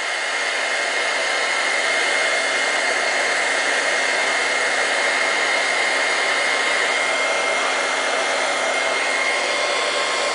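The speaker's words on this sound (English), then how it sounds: "once your heat tool heats up" A vintage heat tool blows a steady, close, loud airy whoosh without a break while it melts and shrinks sheer synthetic fabric into a flower shape; no one talks.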